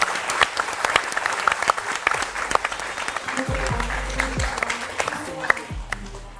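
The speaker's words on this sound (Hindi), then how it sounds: "ताली तो बजा दीजिए" Scattered audience claps at a film star interview event, sparse and uneven at first, then joined by talking voices as the applause thins.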